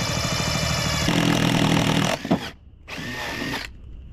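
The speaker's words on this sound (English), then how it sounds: "I think a hole saw that we could use for that." A power drill spins a hole saw through material for a fish finder install, running loud and steady for about two seconds, then dropping out and starting again in a second shorter burst with a high-pitched whine.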